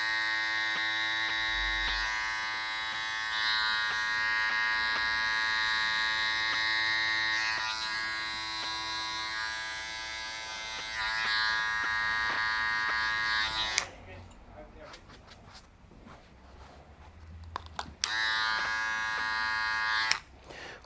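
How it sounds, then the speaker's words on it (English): An electric hair clipper buzzes steadily while cutting a man's hair, with a brief break where the motor stops and noisy handling is heard before the hum returns near the end. "just kind of scrubbing at it with the clipper"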